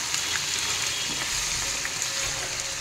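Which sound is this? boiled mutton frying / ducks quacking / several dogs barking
boiled mutton frying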